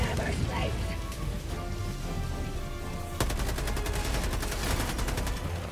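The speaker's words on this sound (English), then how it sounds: "Let's get this machine gun going." Machine gun firing in the video game Helldivers 2, a rapid, steady burst of automatic shots that starts sharply partway through and rattles on to the end, with battle noise and scattered voices underneath.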